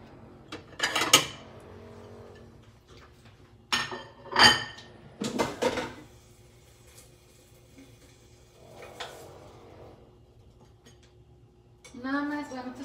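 Cooked fish being taken out of an air fryer onto a plate: a few clattering clinks and knocks of utensils, basket and plate in bursts with quiet gaps, a person talking at the end.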